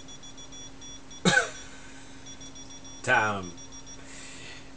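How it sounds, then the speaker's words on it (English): An electronic key finder alarm beeps faintly and steadily in the background, nearly masked by two loud coughs from someone nearby. "An alarm went off. That's a key finder."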